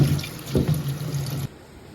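Kitchen sink tap runs water over chicken skin being rinsed, a close splashing gush with a few uneven splatters that stops abruptly after about a second and a half.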